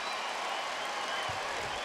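A basketball arena crowd at a Heat–Celtics NBA game reacts to Paul Pierce with a broad, steady wash of noise and scattered clapping, heard under commentators' voices.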